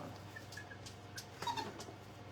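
Dog whimpering softly in a quiet indoor setting, a few faint high whines scattered over about two seconds against low background hum.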